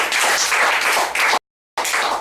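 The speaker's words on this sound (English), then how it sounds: "Round of applause, Aditi Singh." Continuous crowd applause for a graduate at a 2013 CSEC graduation ceremony, a dense close patter that cuts to silence for a moment before the clapping picks up again.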